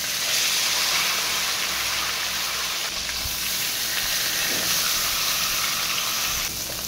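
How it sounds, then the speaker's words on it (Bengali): Two silver carp fish heads fry in oil in a home kitchen, making a continuous, even hiss and sizzle that stays fairly loud throughout, with no voices. "এখন মাছের মাথা দুটো ভেজে নেব"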